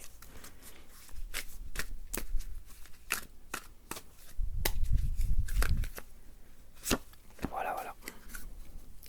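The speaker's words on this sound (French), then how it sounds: "il fallait quand même bien les mélanger avant parce que les cartes n'étaient pas du tout mélangées" Tarot cards being shuffled by hand in a quiet room, with a run of crisp riffling snaps and flutters at an irregular pace, close and clear, and a brief softer burst of shuffling in the middle.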